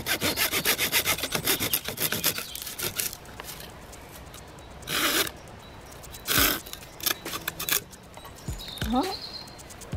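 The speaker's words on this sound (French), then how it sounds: "On va couper à la scie un bout à peu près de cette longueur là entre 2 nœuds." A hand saw works through a dry Japanese knotweed stem, giving a burst of rapid rasping back-and-forth strokes up close, then a few scattered scrapes and rustles as the cut finishes.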